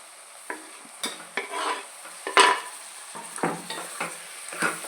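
Tomatoes frying with onions and green chillies in a pan, close up: a steady low sizzle, broken by repeated scraping stirs of a spoon against the pan at an uneven rhythm.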